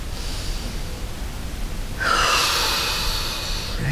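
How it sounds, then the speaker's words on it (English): One deep breath taken close up, a soft, airy inhale followed by a louder, rushing exhale, with no other sound. "Take a nice deep breath."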